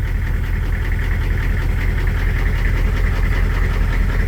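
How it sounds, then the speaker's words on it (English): Military HMMWV M1097R1, an auction purchase that had been sitting unused, idling steadily with a loud, close, rhythmic diesel knock and low rumble throughout. "we're gonna go ahead and let this idle some and just see what happens"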